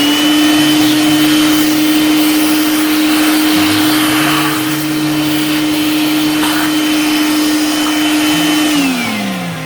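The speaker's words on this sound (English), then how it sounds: "I will continue cutting this out on the bandsaw." Bandsaw cutting out a walnut carving runs with a loud steady whine and airy roar, the pitch holding constant before dropping as it winds down near the end.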